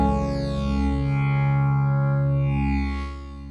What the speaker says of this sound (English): we're sticking with this pad sound for now